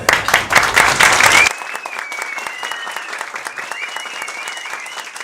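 Loud audience applause welcoming a couple arrives in a burst, then drops to lighter, scattered clapping under a thin sustained tone.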